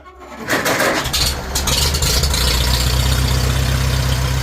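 A 1947 Farmall A tractor engine cranks and catches, then settles into a steady, loud idle that runs on alone.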